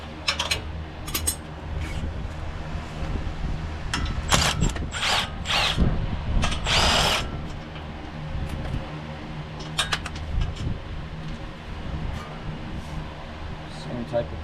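A power tool buzzes and ratchets in short bursts while tightening brake bolts on a Toyota Tacoma front brake job, close and loud against a constant background hum of machinery, with someone talking between bursts.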